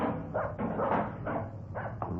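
Dog barking as a radio drama sound effect in a police show, several gruff barks in a quick irregular series, close and clear.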